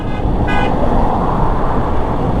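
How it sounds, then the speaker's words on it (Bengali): Loud, steady rumbling roar of a vehicle driving over a grooved, stamped road surface, continuous throughout, with a brief horn-like tonal toot near the start. "এই যে আমি এখন যে কাটাতে চালাইতেছি আমার সামনের চাকা পিছনের চাকা দুইটাই মোটামুটি কাপি"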